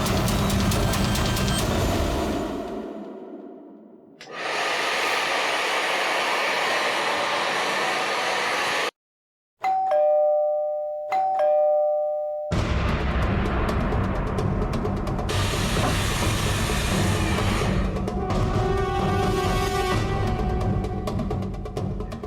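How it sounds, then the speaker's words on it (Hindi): A doorbell chimes indoors beneath a loud, steady roar of an air conditioner and hair dryer. The two-tone ring sounds after a brief silent gap, while broadband hiss fills the rest. "एसी और हेयर ड्रायर की आवाज के ऊपर भी बेल की आवाज साफ सुनाई दे रही है।"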